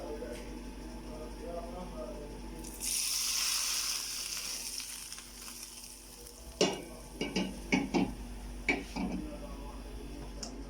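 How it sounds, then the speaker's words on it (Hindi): Cumin seeds sizzling in hot oil in a frying pan for a tadka for mash ki daal and keema, a steady bright hiss that swells midway, then sharp stirring clicks and scrapes near the end, with a voice speaking underneath. "फ्राई पैन में थोड़ा सा ऑयल डाल लिया मैंने और ज़ीरे का हम तड़का लगाएंगे"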